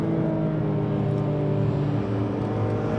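A BMW M3 engine pulls hard in third gear, a steady, loud droning growl with a faint rising pitch, heard from inside the car with no talking.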